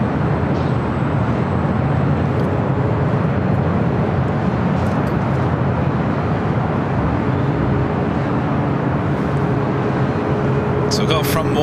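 Steady, even broadband roar of a Lufthansa Airbus A380 airliner taxiing across runways at LAX, heard continuously at a distance, with a few faint higher clicks near the end.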